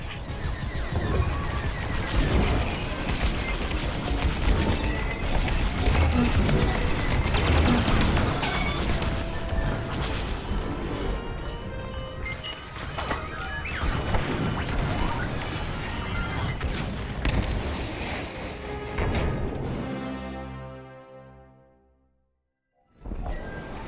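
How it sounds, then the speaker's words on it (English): Heavy blaster fire and explosions in Star Wars: Squadrons, a loud, dense barrage of shots and crashing blasts over a roaring engine bed, thinning out before a sudden dropout and a brief return. "Under heavy fire."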